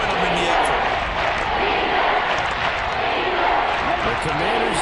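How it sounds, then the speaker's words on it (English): A stadium crowd in the Madden 23 football video game, with a dense, steady roar of cheering that holds loud throughout and builds slightly on a third-and-goal defensive stand. "That just means this crowd's going to get even louder"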